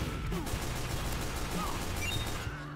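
Pistol gunfire in Team Fortress 2, a rapid stream of game shots mixed into steady in-game noise at moderate loudness, ending in a sudden louder burst.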